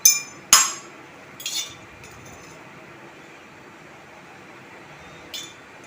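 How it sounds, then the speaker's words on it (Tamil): An iron dosa pan is set on a stove, a sharp metallic clink, then a second clank and a softer knock, followed by a quiet hum and one faint tap near the end. "இப்போ நம்ம அடுப்பை பற்ற வச்சு நம்ம வந்து தோசைக்கல் வச்சுக்குவோம்"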